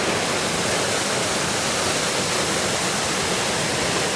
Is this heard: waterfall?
yes